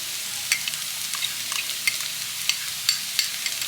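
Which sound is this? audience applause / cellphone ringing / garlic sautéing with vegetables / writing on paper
garlic sautéing with vegetables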